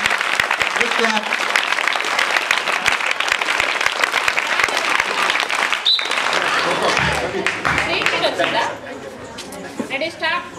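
Loud, dense clapping from an audience at a best-teachers award ceremony fills the scene, sustained throughout with crowd chatter mixed in and easing slightly near the end.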